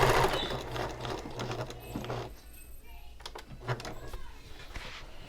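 A sewing machine runs a line of stitching along the top edge of a handbag, a fast whirring buzz that slows and pauses, with light handling clicks at close range.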